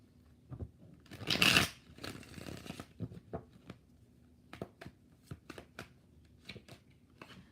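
Tarot cards shuffled during a live reading: one brief, rushing riffle burst, followed by a scatter of soft taps and flicks as cards are handled and laid down, quiet and close.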